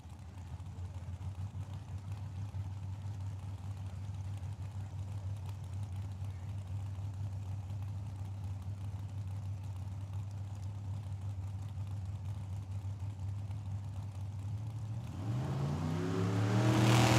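Drag cars at Tucson Dragway, a '55 Chevy and a Camaro, idle loudly at the line with a steady low engine rumble, then rev hard and launch near the end with rising, roaring engine pitch.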